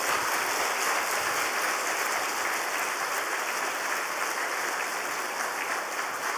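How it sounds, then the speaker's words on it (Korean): A church congregation claps warmly to welcome a pastor at an early-morning autumn revival service, a dense, steady wash of applause that fills the whole stretch without pause. "우리 나오실 때 우리 정정 총회장이신 선 목사님 뜨거운 박수로 맞이하겠습니다."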